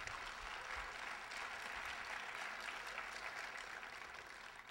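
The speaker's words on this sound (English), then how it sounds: "Why don't y'all clap while I take a sip of water?" Steady applause from an audience at a 2011 conference talk, a dense continuous wash of clapping holding even for several seconds without speech.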